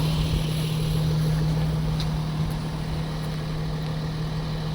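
The 3.0-litre diesel engine of a 2010 Porsche Cayenne idles steadily with a low, even exhaust rumble, close by and continuous, with no talking.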